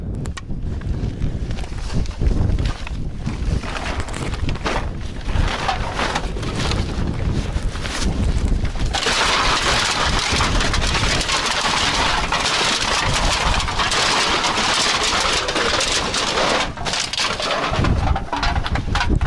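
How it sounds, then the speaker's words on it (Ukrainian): Strong wind at a garbage dump buffets the microphone in loud, continuous gusts, roaring and thumping with no let-up. "Ох, сьогодні вітрюганище."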